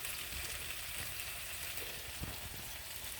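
Apples cooking in a pan for an apple baby dish, a steady soft sizzle and frying crackle running the whole time with no voices.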